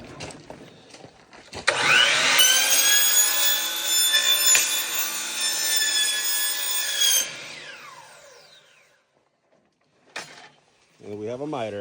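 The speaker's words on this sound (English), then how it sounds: "miter saw on this gutter" A miter saw cuts through a heavy-duty metal gutter, a loud, close, high-pitched whine and screech lasting several seconds before the blade spins down, followed by brief talk.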